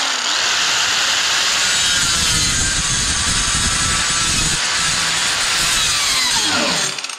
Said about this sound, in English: Old school angle grinder is gonna cause a fucking mess.